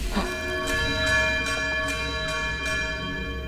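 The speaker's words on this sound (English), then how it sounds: "Oh, that's what that is. That's what the bells are for." Bells ring in the video game Outer Wilds, a sustained metallic tone with several soft repeated strikes over a steady low rumble, moderately loud with no talking.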